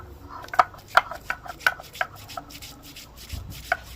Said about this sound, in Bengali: প্রথমে আমি ডালগুলোকে ভালো করে তাহলে বেটে নিই